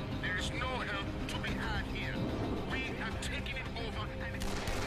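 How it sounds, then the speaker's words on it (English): Gunfire in the zombie game Dead Island comes as bursts of sharp shots and booms scattered through dense game noise, while a player talks over it. "all this gunfire we're doing"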